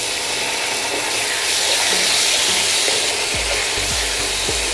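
Spice paste with tomato puree sizzles and fries in a pan, a steady loud hiss throughout with occasional faint scraping taps near the end.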